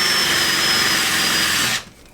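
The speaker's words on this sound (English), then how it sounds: "So you get this little brush here in your pistol drill." A pistol drill spins a brush with cutting compound to polish a tatty motorcycle part, a loud, steady high whine that cuts off abruptly near the end.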